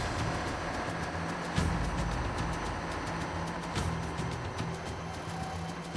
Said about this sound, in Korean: 엔진이 분주히 움직이자 검사원들도 바빠지기 시작했다